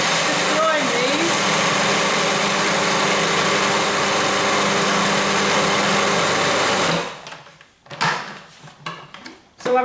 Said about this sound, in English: put the oats into the food processor, and then I'm going to put the lid on around the right way, Alexis, and then just grind these